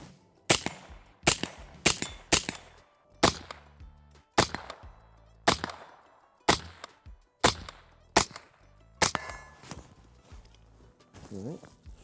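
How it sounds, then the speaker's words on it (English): An AR-15 rifle, the Radian Model 1, fired at a steel gong in a run of about ten sharp, loud cracks, each followed by a brief ringing decay, spaced roughly a second apart. "follow-up shots aren't bad because of how well the rifle cycles and stays"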